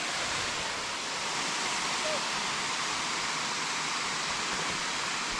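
Steady, loud rush of the Wei Sawdong waterfall in Cherrapunji, heard close to the falling water as a continuous broadband roar with no breaks, filling the whole scene.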